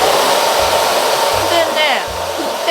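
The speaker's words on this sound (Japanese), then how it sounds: "レプロナイザーのドライヤーです。 これで髪を乾かします。" Repronizer hair dryer blowing hot air to dry hair, a loud, close, continuous whooshing hiss with small shifts in pitch as it moves around, and no talking.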